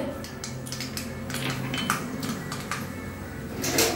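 Mustard seeds hit hot oil in a kadai and begin spluttering, with a steady crackling sizzle and sharp pops and taps at close range.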